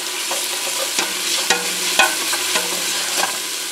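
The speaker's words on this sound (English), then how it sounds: "I'm going to stir that around a little." Food frying and sizzling in a pan while a utensil stirs and scrapes it, several sharp clicks and scrapes over a steady crackling hiss, close and fairly loud, with no talking.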